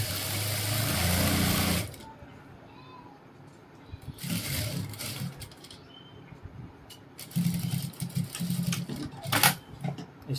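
An electric sewing machine runs in a few bursts while stitching the seat seam on the back of ladies' pants, with a steady mechanical whir and pauses between runs.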